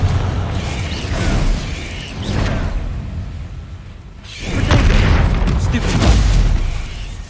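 Confringo fire-spell explosions in Hogwarts Legacy: two deep, whooshing booms, each swelling and fading over a couple of seconds, with crackling bursts amid busy game-battle noise and voices.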